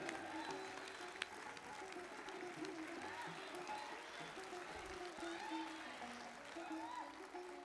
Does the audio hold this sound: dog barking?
no